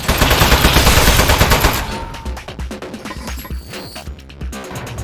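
A turret in Aperture Desk Job opens fire in a loud, dense automatic burst, then fades into sparser, separate shots and clatter.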